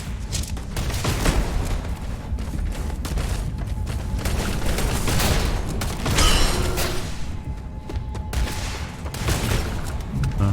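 Rapid automatic gunfire from a mining turret in the video game Starfield, a dense, loud, continuous rattle of shots with booming bursts that keeps going for about ten seconds, heard alone without talk.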